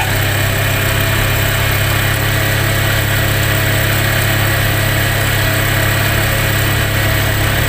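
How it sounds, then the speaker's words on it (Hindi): A small engine runs loud and steady at idle while its carburetor air screw is turned, a continuous close droning hum with constant vibration and no talk. "फिर वापस हम अगर इसे टाइट करेंगे तो फिर देखिए इंजन का स्पीड बढ़ने लगा है।"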